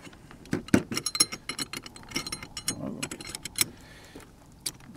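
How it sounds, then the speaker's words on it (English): A Glock 17 Gen 4 pistol being reassembled, close metallic clicks, slides and small clacks of parts fitting together, irregular and fairly loud, with no talking. "Let's put it back together."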